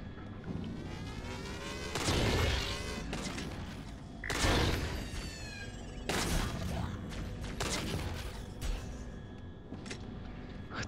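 Rifle fire and explosions ring out in the video game Halo: Spartan Strike, with several heavy bursts and booms spaced across the stretch over a busy layer of game sound effects.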